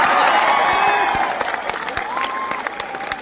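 A live audience at a public event applauds loudly for a speaker, with dense, steady clapping and sharp individual claps that thin out gradually toward the end.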